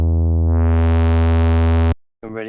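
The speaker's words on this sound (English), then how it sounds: "Let's try hard distortion." A buzzy synthesizer note with hard distortion, held for about two seconds, growing brighter and harsher before cutting off abruptly.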